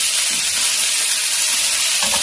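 Premium Korean Hanwoo beef, of the top Hoengseong grade, sizzles and crackles steadily on a hot grill, a close, continuous frying hiss with a few soft pops near the end.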